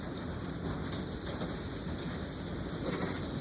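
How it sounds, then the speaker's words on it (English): Hail from a November storm falls outside, a dense, steady rushing patter like heavy rain on surfaces, continuous and fairly loud with no voices. "a bunch of hail. There's probably even more hail."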